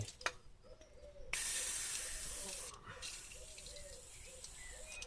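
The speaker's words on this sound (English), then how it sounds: "spray some WD-40 into that one, and that one" A short hiss of WD-40 aerosol spray into a Vespa PX carburetor bursts in for a couple of seconds, stops briefly, then resumes more softly amid faint background noise.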